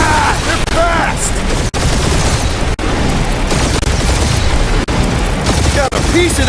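Incoming gunfire during a fight in Marvel's Guardians of the Galaxy: dense, sustained bursts of shots and booms, loud and close, with a few brief gaps and small voice-like effects over the barrage.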